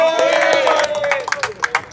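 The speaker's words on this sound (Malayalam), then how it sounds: "കയ്യടി തന്നെ നൽകണം ഈ താരത്തിനായി" Clapping and crowd noise break out for a cricket player at a grand final, with a burst of handclaps and cheering near the start that tails off into scattered, uneven claps.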